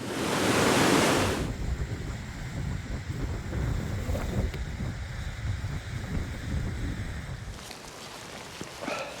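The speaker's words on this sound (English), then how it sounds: "The wind is just absolutely brutal." Strong wind buffets a mountainside in Glencoe, a loud roaring gust at first settling into a steady rushing blast against the microphone, with a faint rattle near the end.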